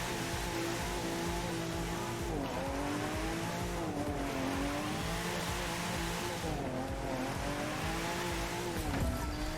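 A car drifts in The Crew 2 racing game, its engine droning and rising while tires squeal continuously in long sweeping slides.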